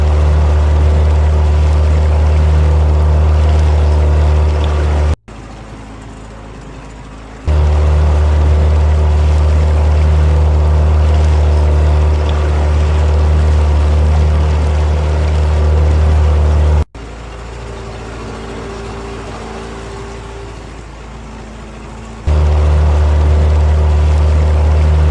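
Motorboat engine cruising on the River Trent, a loud steady low drone that drops to a quieter idle twice before surging back, with no talking.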